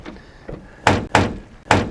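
Three loud, close bangs from the door of an XH Falcon Surferoo as its seal is cracked open, evenly spaced after two softer knocks, each a sharp hollow thump with a short decay.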